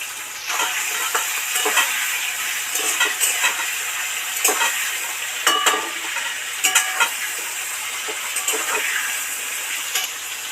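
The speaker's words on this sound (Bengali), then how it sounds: "আলুগুলো লাল লাল করে ভাজা হয়ে গেছে" Potatoes and chillies sizzle and fry in a pan while a spatula stirs them, giving a steady close hiss with repeated light scraping clicks throughout.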